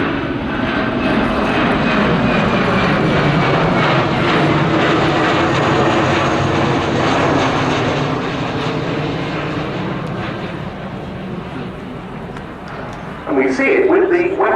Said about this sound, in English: running in from the right, the Boeing Poseidon MRA-1 from number 120 Squadron